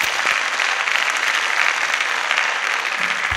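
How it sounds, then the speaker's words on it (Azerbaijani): A studio audience applauds on a television show, a dense, even wash of clapping from many hands that holds at full strength for a few seconds. "Alqışlarınız."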